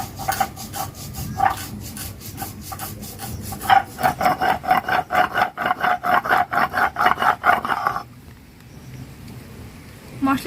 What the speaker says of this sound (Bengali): কাঁচা লঙ্কা, অল্প একটু লবণ দিয়ে বেটে নেব।